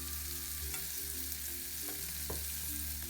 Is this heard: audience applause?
no